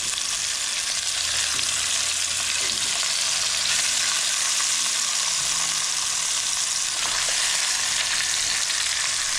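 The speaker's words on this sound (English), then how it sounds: "Now we're going to add the short rib pieces and brown them in batches" Beef short rib pieces browning in butter in a pan give off a steady, dense sizzle and crackle that holds for several seconds, with faint stirring sounds underneath and no talking.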